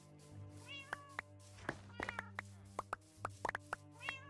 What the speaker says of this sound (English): Meowing going on.